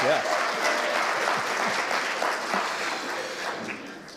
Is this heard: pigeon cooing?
no